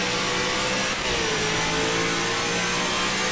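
A NASCAR race car at Dover screams past at full volume, its engine note shifting and dropping as it downshifts, with loud, continuous, steady roar and no talking.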